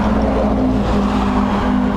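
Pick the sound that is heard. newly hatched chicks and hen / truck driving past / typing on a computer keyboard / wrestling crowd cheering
truck driving past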